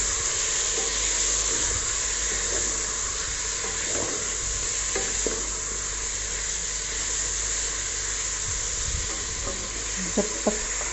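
Chicken frying in a pan for alo gosht, a steady broad sizzle with occasional scrapes and clinks of stirring, close and continuous with no talk.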